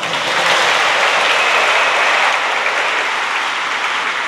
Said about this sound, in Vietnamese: Chúng con cũng xin thể hiện bằng niềm vui và một tràng pháo tay nữa.